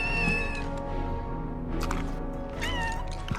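A cat meows in Final Fantasy 7 Rebirth, several drawn-out plaintive meows over a continuous low game backdrop, clear and near.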